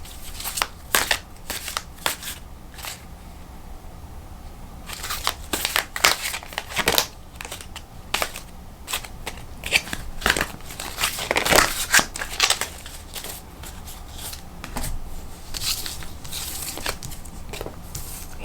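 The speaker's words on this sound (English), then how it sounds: "I feel like I should be pulling another card, so I'm going to do that." Tarot cards being shuffled and drawn from a deck, a near, continuous run of riffling, slapping and crinkly flicks with louder bursts throughout, no talking.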